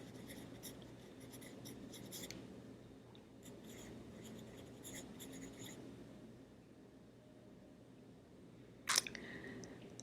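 Scratchy strokes of handwritten notes come in short bursts, a pen scraping quietly across paper at close range, separated by brief pauses and ending with a sharp tap.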